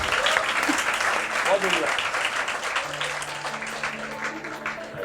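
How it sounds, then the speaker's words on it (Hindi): Audience applause at a success-story and guidance session, a broad steady clatter of many hands filling the whole stretch, with a voice speaking briefly over it. "हाँ, तालियां बजाओ।"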